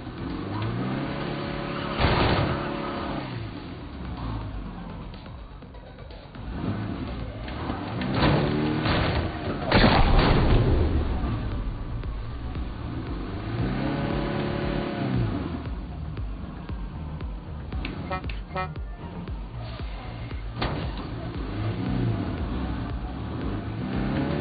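A van's engine revs and strains in a video game, its mid-pitched drone rising and falling in repeated surges throughout, loud and continuous with a few clunks.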